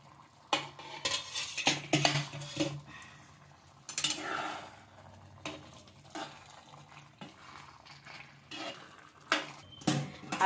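Cooked Kolhapuri-style chole being served from a pot onto a small plate, with irregular metal spoon scrapes and clinks against the pot, soft stirring and faint sizzle between them, close by and with no voices.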